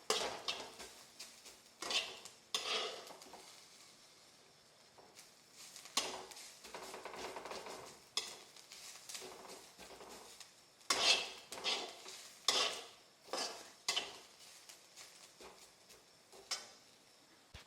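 Onion roasting in a pan until browned is stirred with a utensil, giving scattered scraping and clattering strokes in uneven bursts over a faint background sizzle, fairly quiet overall.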